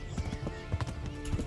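Horse hooves clip-clopping in the video game Kingdom Come: Deliverance, a quick, steady galloping rhythm close by, with a faint neigh.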